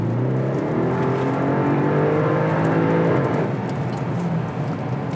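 Audi RS7 engine switched into sport mode, revving and accelerating loudly with a steady rising drone and harmonic whine that holds throughout, no talking.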